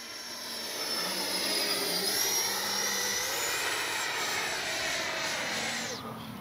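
Freewing MiG-29 RC model jet flying at three-quarter throttle, a steady loud turbine whine with a sweeping tone that holds through the pass and drops off at the end.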